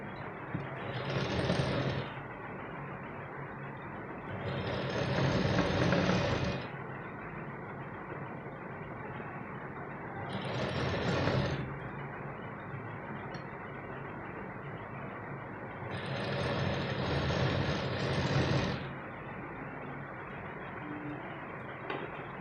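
A sewing machine double-stitches a katori blouse in four separate runs of about two seconds each, a fast buzzing whir that stops between bursts, leaving quiet pauses.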